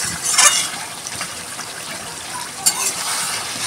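A little water is poured into a thick vegetable curry cooking in a pan. Two brief splashing hisses come over a steady close sizzle, with no talk.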